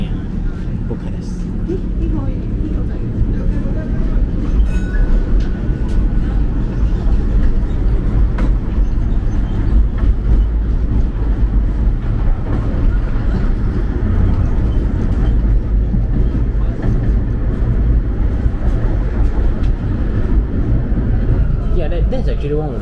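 A tram in Bucharest rolls along with a loud, steady low rumble and rattle of the car throughout, constant motor and wheel noise filling the ride from start to finish.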